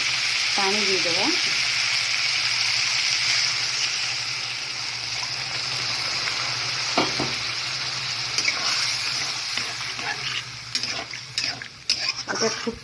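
Water poured into a pan of frying pui leaf curry sets off a loud hiss that settles into a steady sizzle, with stirring and utensil clinks toward the end.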